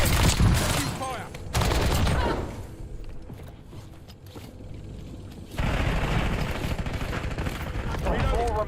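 Heavy gunfire in Call of Duty Warzone: loud bursts of automatic fire and booming shots, dropping to a quieter stretch mid-clip before another sustained barrage.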